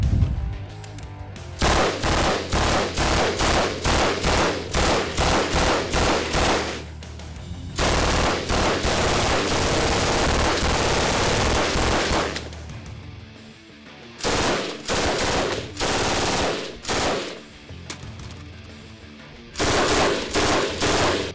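Bursts of full-auto rifle fire ripping out in long strings, loud and close, separated by short pauses, with no talk over the shooting.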